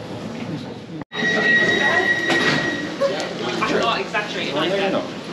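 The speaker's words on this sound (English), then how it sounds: "And here's the westbound platform, which is absolutely packed today." Train arriving at a packed westbound platform in Whitechapel station, London: a steady rumble with brakes squealing in a long high whine, close and loud, under a continuous murmur of crowd chatter.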